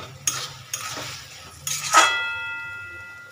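A utensil stirs boiled mung dal with salt and sugar in a pan, giving a few separate scraping knocks against the metal and one louder clink that rings on briefly while the pan stays quiet.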